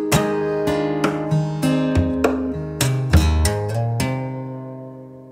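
Percussive acoustic guitar playing the chorus of a song slowly, with sharp body-slap hits and plucked strings ringing out alone, close and clear over about five seconds.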